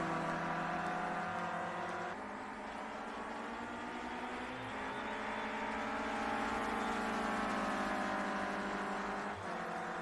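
Clio Cup race cars in the Project Cars video game at Silverstone National run as several overlapping engine whines, climbing in pitch and dropping sharply at gear changes. The sound is steady and there is no talk.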